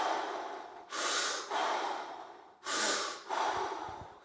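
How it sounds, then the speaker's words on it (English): Deep, slow breaths taken in and out during a fascia exercise, close and clear: two long inhale-exhale cycles of airy rushing breath with no talk. "So breathe in."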